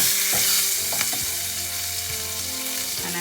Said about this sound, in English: Now I am adding a little bit of chana dal over there. Okay, a little bit of chana dal, and toss it around a little bit.